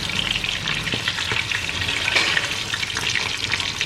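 Chicken katsu sizzles steadily in hot frying oil after being turned over, a dense continuous crackle with scattered pops, close and even throughout, with no talking.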